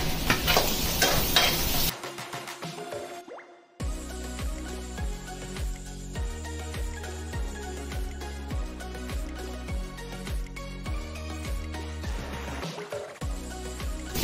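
Finely chopped green chillies hit browned ginger and garlic in butter for chilli paneer, a loud, hissing sizzle for the first two seconds, after which background music takes over with the frying barely present.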